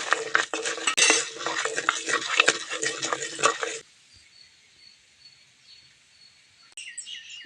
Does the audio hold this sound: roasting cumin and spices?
yes